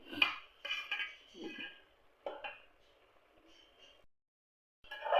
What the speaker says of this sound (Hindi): मटर और आलू जो है वो बहुत अच्छे तरीके से मैं भून रही हूँ